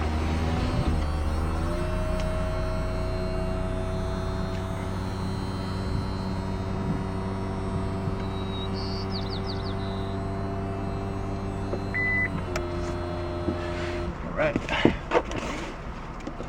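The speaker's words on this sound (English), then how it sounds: "let's go ahead and put the top down" The power-operated top of a 2014 Chevrolet Camaro 1LT convertible lowers with a steady electric motor whine over the idling engine, then stops with soft mechanical clunks and latching sounds; a voice talks over part of it.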